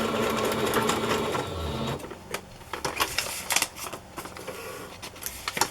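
A sewing machine runs a zigzag stitch over ribbon, whirring steadily at first, then breaking into short bursts of stitching separated by brief pauses, close and fairly quiet.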